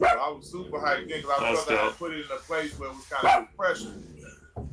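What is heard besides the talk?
dog barking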